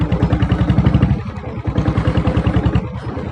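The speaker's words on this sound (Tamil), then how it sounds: "வண்டி பீட்டு கேட்டிருப்பீங்க. பீட் இல்லாமல் பயங்கரமாக இருக்குது வண்டியில்." A diesel Royal Enfield Bullet motorcycle with self start runs steadily, its single-cylinder engine thumping in a fast, even rhythm, loud and close with some mechanical clatter.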